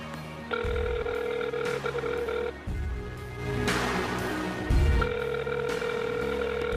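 A phone ringing on a radio call-in show, repeated electronic tones over a steady background hum, with brief breaks between rings, fairly loud and close.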